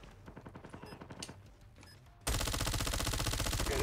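Rapid FFAR rifle fire in the mobile shooter Call of Duty Mobile: after faint, scattered in-game action, a loud, dense, fast automatic burst bursts in and keeps rattling to the end.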